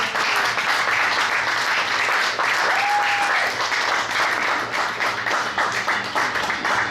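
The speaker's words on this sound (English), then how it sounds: "Give her a big round of applause." Dense, sustained applause fills a theater as the audience at a live magic show claps steadily for a volunteer, with the roar of hands holding an even level throughout.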